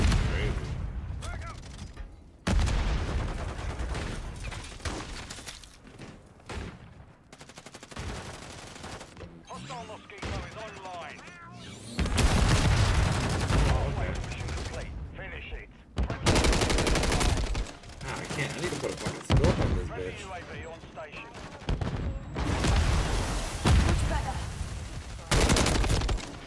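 Rapid bursts of video game gunfire ring out in repeated volleys while zooming in to shoot, loud and dense, with a voice talking between and over the shots.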